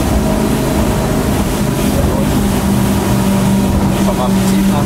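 A motorboat running steadily across the water at reduced speed, its engine drone loud and continuous with a low steady hum and water and wind noise throughout; voices talk over it.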